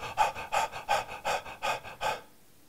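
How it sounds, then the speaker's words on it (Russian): A person breathes fast and forcefully in a demonstration, eight quick rhythmic panting breaths close to the mic, then silence. "вы ходите на улицу и очень быстро и активно начинаете дышать"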